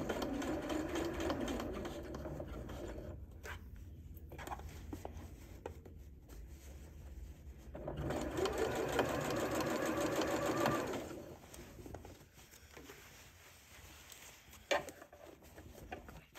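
A sewing machine stitches a dress bodice seam at a 5/8-inch allowance, running at a steady hum in long continuous bursts with brief pauses, close and clear with no talking.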